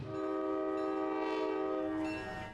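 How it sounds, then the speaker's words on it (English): Polar Express excursion train horn on the Smoky Mountain Railroad passing through Bryson City, one long loud sustained chord-like blast lasting over two seconds, close and steady before tapering off. "Moving through Bryson City now, a Polar Express train trip on the Smoky Mountain Railroad."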